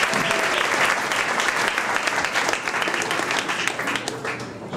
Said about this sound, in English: So let's give ourselves a great applause.